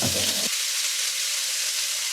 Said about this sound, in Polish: Smażę maksymalnie te 5 minut